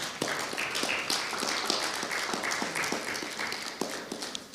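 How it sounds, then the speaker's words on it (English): A workshop audience applauds speaker David with steady, dense clapping at moderate distance. It carries on evenly for several seconds, with a few sharper individual claps showing above the crowd. "Let's give David a wonderful round of applause again."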